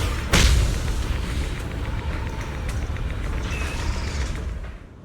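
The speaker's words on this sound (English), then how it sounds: "The array base has been destroyed" Array base destroyed in the video game Zenless Zone Zero: a deep, heavy boom strikes at once, then rumbling, creaking destruction rolls on low and loud for several seconds before easing away.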